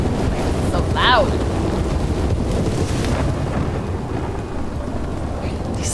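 Loud, steady storm wind roars through Red Dead Redemption, with a continuous broadband rush and a brief whistling gust near the start.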